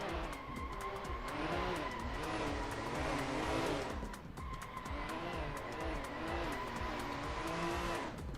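Drift cars in a competition slide with continuous tire squeal and roaring engines, two sustained loud passes with revving and screeching, a brief dip between them.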